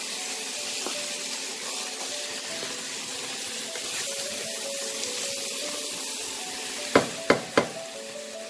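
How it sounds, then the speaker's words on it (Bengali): Masoor dal lentils frying in a pan give a faint, continuous sizzle near the pan, ending with three quick sharp knocks of a spoon against the pan. "এবার আমি এই মুসুর ডালটাও একটু 5 মিনিট একটু ভাজা ভাজা করবো।"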